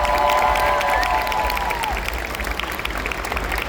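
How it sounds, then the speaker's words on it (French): An audience at a Geek Days panel in Lille applauds throughout, a steady, dense clapping from a crowd, with a faint tonal sound fading out early on. "je vous demande de faire un tonnerre d'applaudissements pour Céline Maloune"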